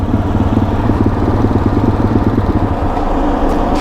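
A motorcycle engine runs close by at a steady idle, its low pulsing thrum loud and even throughout, with a slight change near the end.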